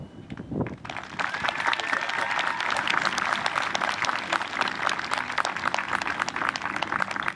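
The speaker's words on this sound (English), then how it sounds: "How about one more round of applause for Miss Gabrielle Ali and Mr. Jack Sassa." After a brief sound at the start, a crowd claps steadily at an eighth-grade promotion ceremony, a continuous wash of applause that holds evenly to the end.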